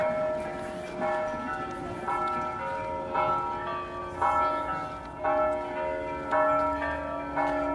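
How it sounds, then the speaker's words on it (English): Church bells ring on a Sunday in medieval Tallinn's old town, a series of resonant strokes roughly every second, moderately distant over faint outdoor street ambience. "And as you can hear from the bells, it's Sunday. It's church time."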